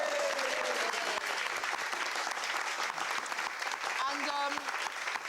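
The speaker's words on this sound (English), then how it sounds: "Round of applause." A studio audience claps steadily in a dense, sustained round of applause, with a brief voice or two surfacing over the noise near the end.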